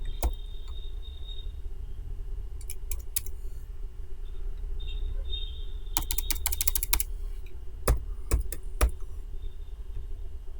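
Computer keyboard keys clack while someone codes a React web page, coming in irregular bursts of rapid clicks separated by pauses over a faint steady background hum.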